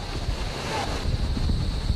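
Typhoon Glenda drives strong wind and rain across Bataan near the sea, a dense continuous roar with gusty rumble and no pauses.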